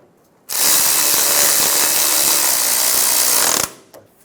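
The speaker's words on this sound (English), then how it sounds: "we're going to snug down the bracket bolts" Bracket bolts on a 2000-2006 Toyota Tundra frame get snugged down with a socket tool during power steering line replacement: one loud, continuous mechanical whir lasting about three seconds, close up, with no talking.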